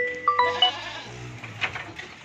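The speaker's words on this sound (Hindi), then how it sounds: "ये एक बकरा है" A goat for sale, kept alongside a female goat and two kids, bleats in short wavering cries close by, loud and distinct over a faint background murmur.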